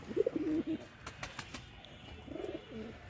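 Pigeons in a loft, one of them with a cold, give soft low cooing calls near and clear, then a brief burst of wing flaps and fainter cooing with light rustling.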